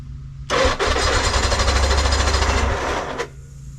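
The engine of a 2002 Arctic Cat 600 EFI snowmobile being revived bursts into a loud, close mechanical roar, runs roughly for about three seconds, then cuts out abruptly into silence.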